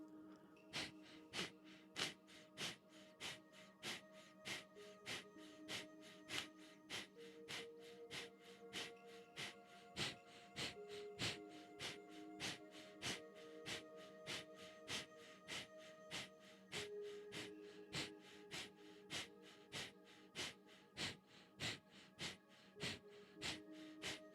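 Rapid, forceful Kapalabhati breathwork exhalations pump out in a steady, even rhythm of sharp nasal bursts, close and clear, under a soft sustained musical drone.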